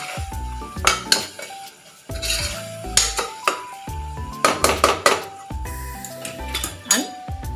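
Spoon stirring chili powder through capsicum curry in a pot, with repeated clinks and scrapes against the metal in bursts, close and fairly loud, with no talking.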